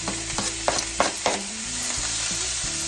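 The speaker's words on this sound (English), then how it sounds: "Get them in there and saute them down real nice." Vegetables sautéing in a pan, a loud close sizzle with a rhythmic run of four or five spatula scrapes and knocks early on, then steady frying.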